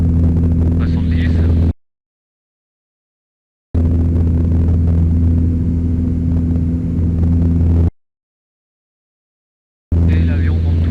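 The engine of a Mousquetaire D140 light airplane during takeoff: a loud, steady drone with strong low hum fills the cabin, cutting out twice into silence, while people talk over it.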